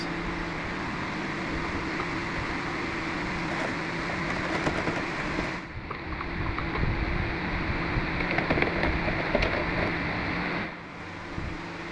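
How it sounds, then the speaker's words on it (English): A ventilation fan runs steadily with a constant whooshing drone and low hum, dipping briefly twice before carrying on, while aluminum is anodized in a lye mixture. "got a fan going, sorry about the noise, but I want to ventilate this"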